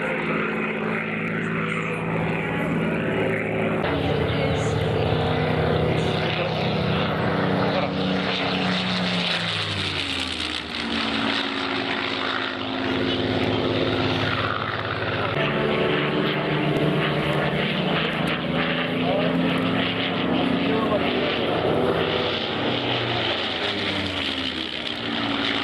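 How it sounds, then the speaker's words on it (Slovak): A Spitfire fighter plane flying overhead, its piston engine droning loudly and steadily with shifting pitch as it passes, continuous for over twenty seconds with a faint voice beneath. "radšej sa započúvajme do zvuku motora"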